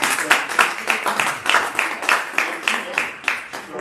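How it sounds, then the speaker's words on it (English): Audience at a morning Rotary Club meeting claps in rhythmic bursts, a room-filling round of applause with a steady pulse of hands, moderately loud and close with no speech over it. "We're going to give her a round of applause."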